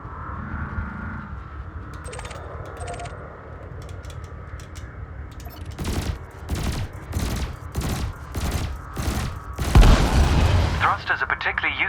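In Elite Dangerous, a spaceship fires its cannon and lasers in a run of loud, evenly spaced bursts building to a heavier blast, with a humming engine bed and a spoken voice over the top.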